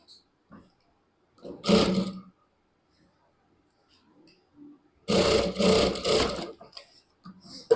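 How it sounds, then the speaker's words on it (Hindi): A sewing machine stitches lehenga fabric along a folded lining edge in two separate runs, one short and one longer, each a rapid mechanical whirr, with near-silence and faint handling noises between them. "यहाँ से सिलाई लगाएंगे, लेकिन सिलाई हमारी अस्तर की साइड आनी चाहिए"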